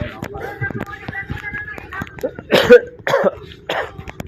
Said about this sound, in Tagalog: Inuubo na tayo.